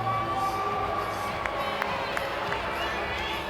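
Crowd at a college gymnastics meet cheering and applauding after a vault, a steady roar of voices and clapping filling the arena throughout, with faint announcer talk mixed in.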